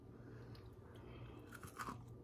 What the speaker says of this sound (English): Let's listen for the crunch.